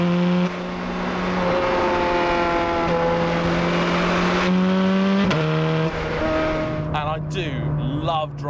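A 500-horsepower Ferrari engine drones loudly as the car accelerates, with pitch dropping at gear shifts and revs climbing again, heard from inside over road noise.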